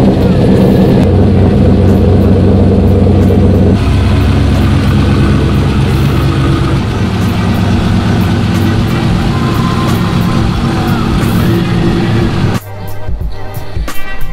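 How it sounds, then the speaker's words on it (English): A car engine runs steadily while the car is backed up, a loud continuous rumble and drone that holds throughout, then shifts and thins abruptly near the end; no talking. "we'll back the car up and go from there"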